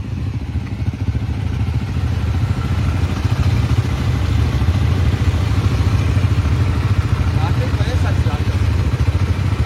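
Four motorcycles idle together after a cold start, a loud, steady, throbbing low engine rumble heard up close with a faint mechanical clatter and no break in the drone.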